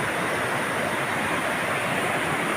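A swollen mountain river in flood rushes loudly and continuously nearby, a dense broadband roar of churning water with no break.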